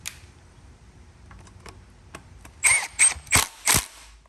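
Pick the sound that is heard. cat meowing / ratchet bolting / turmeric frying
ratchet bolting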